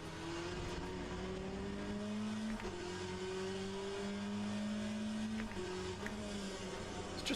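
Race car engines in the Le Mans Ultimate racing game drone steadily, with pitch climbing through gears and dropping at shifts in a repeating pattern, sustained and fairly quiet with no talking.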